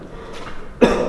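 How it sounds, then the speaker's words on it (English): A single cough echoes down a tunnel, arriving as one sudden burst near the end after a stretch of quiet ambient hiss. "I heard a cough from down there."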